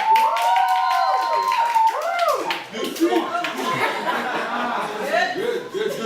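An audience at a launch event claps loudly in a dense burst, with whoops, drawn-out shouts and chuckles over the applause, and voices call out throughout.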